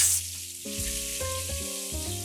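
Breaded schnitzel fries in oil that is not yet fully hot, giving a soft, even sizzle beneath clear sustained melodic tones.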